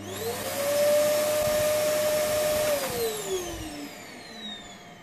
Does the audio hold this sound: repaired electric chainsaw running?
yes